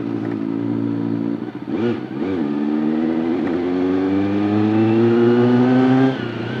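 Close, loud revving from a 400cc Honda CBR 400 superbike engine: a few quick throttle blips early on, then a long, steadily rising rev that cuts back sharply near the end.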